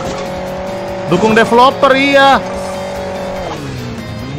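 Whining motorbike engine from Hill Climb Racing 2 revving up and down in rising and falling pitch sweeps, loud and close, with a person talking over it.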